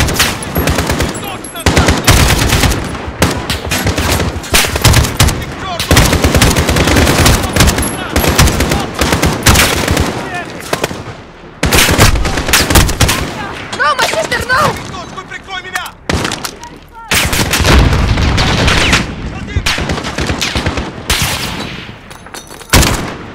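Dense automatic gunfire and explosive shots from a Call of Duty combat mission to free prisoners, sustained bursts loud and close nearly throughout, with brief lulls and shouted voices mixed in.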